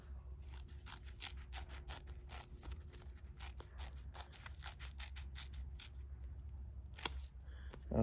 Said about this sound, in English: I'm gonna take my trusty little scissors here, and I'm just gonna cut it in half to start.